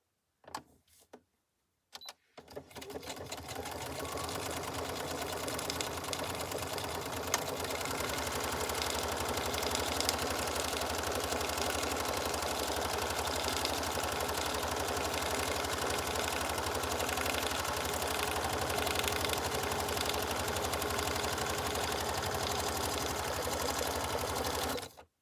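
Sewing machine stitching waxed paper into an envelope, a steady close whirring motor hum with rapid needle ticking that runs continuously for over twenty seconds after a brief start.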